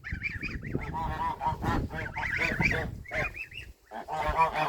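A flock of geese, with goslings nearby, honking loudly and repeatedly, nasal calls overlapping in quick bursts close by, with brief pauses between clusters.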